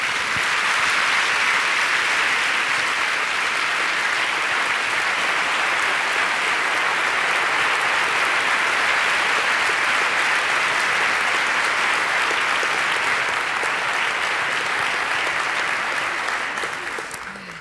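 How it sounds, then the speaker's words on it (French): Sustained, loud, dense applause from a theater audience at the Prix de Lausanne 2011 ballet competition finals, honoring the non-finalist candidates, steady throughout and tapering off at the end. "je vous demanderai peut-être des applaudissements tout particuliers pour ceux qui ne sont pas finalistes, qui sont juste là de côté"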